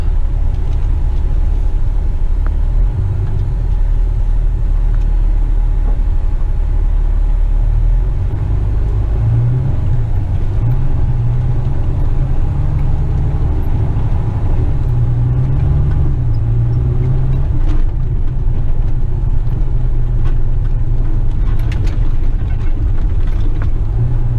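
Inside the cab of a Western Star dump truck, a deep, loud engine rumble drones continuously as it drives on, with low-frequency surges and faint clunks as it rolls over a speed hump.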